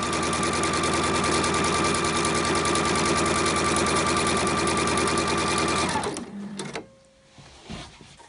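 Sewing machine stitching a shirt collar with stand: a loud, fast, rhythmic mechanical chatter running steadily for about six seconds, then stopping, followed by faint handling clicks and rustling nearby.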